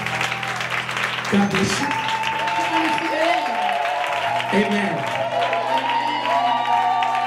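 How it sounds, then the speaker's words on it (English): Hands clapping along at a church worship service during a Go Deeper 2014 conference, a steady patter running beneath a preacher's amplified voice and music. "Clap your hands for Jesus"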